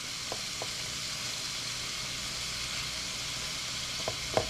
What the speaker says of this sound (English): brown up the other side and repeat until I've cooked all of the meat